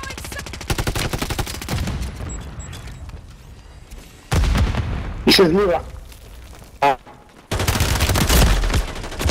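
Rapid bursts of automatic gunfire and explosive shots from the video game Call of Duty, loud and dense, breaking off in the middle as players talk over the action before the firing resumes.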